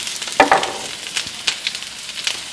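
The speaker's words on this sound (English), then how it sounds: "I'm going to mix this all together." Asparagus and garlic are tossed together in a dish, giving soft scraping, clicking and rustling sounds in short irregular bursts, close and fairly quiet.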